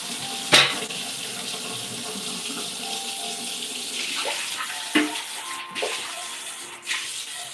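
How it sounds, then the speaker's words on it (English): Water pours into a cat's water bowl indoors, a steady faucet-like trickle with a few clinks and knocks of the bowl along the way. "I'm going to add a little more water to that bowl for you."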